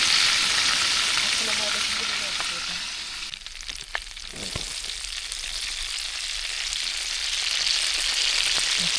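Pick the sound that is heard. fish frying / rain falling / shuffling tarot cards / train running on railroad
fish frying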